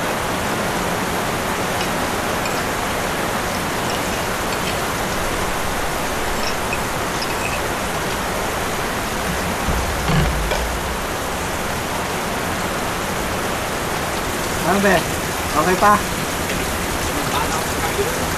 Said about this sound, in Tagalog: Malakas na yung ulan, malakas pa po yung hangin.